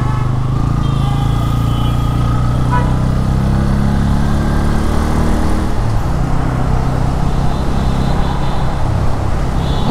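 A Bajaj Pulsar N160 motorcycle rides through city traffic, its steady engine drone running continuously under loud road and traffic noise, with the engine pitch rising and falling slightly as it moves along.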